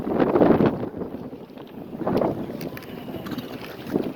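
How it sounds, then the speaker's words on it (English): Gusty wind buffets the microphone in low, rumbling bursts that rise and fall in three or four surges, with no speech. "It's windy, right?"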